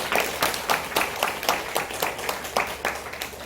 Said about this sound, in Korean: 사랑의 박수 해주겠습니다